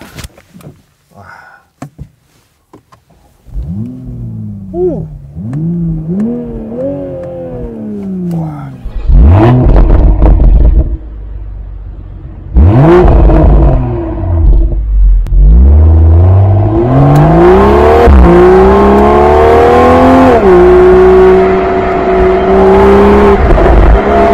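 A Toyota GR Supra revs hard several times, exhaust rising and falling in loud sweeping bursts, then holds a sustained roaring rev near the microphone.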